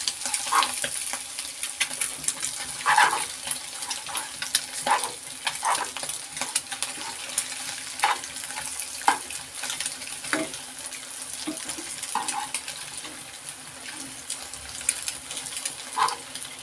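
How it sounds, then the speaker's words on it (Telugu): An egg frying in a pan for egg rice: steady close sizzling with intermittent light scrapes and taps of stirring, moderately quiet and without talking. "ఎగ్ బాగా ఫ్రై అయ్యాక సాల్ట్ వేసుకుందాం."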